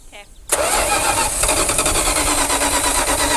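An abandoned Dodge Power Wagon service truck engine cranks over in a loud, steady, rhythmic churn that starts abruptly after a brief voice and continues without catching.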